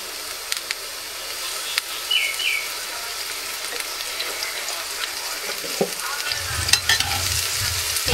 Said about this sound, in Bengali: লাল শাকটা বসাই দিই